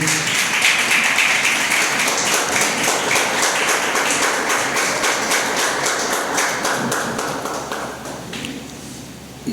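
A church congregation applauds in dense, continuous clapping that holds strong and close, then slowly thins and fades toward the end.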